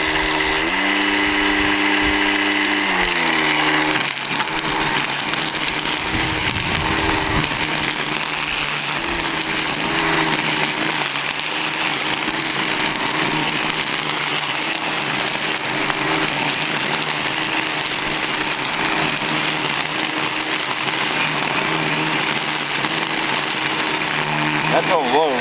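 A DeWalt DCST922 cordless string trimmer runs at low speed. A smooth motor tone shifts after a few seconds into a loud, continuous, wideband whirring buzz with a voice talking underneath.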